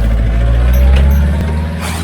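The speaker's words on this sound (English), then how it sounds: "as the engine grabs the fuel, you can hear the RPMs pick up again" A boat's engine in a busy channel, running again on its backup fuel filter after losing power, makes a steady, loud, low drone that swells slightly as the revs build, with no talking.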